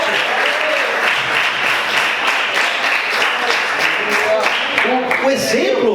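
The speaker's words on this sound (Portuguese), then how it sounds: "Aplauda o Senhor mais forte" Church congregation applauding loudly and steadily throughout, a dense wash of clapping with voices calling out and cheering over it near the end.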